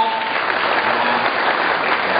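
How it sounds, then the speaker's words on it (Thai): A crowd at a Thai stage event applauds loudly, an even wash of many hands clapping without a break. "ขอเสียงปรบมือดังๆนะครับพี่ชายครับ"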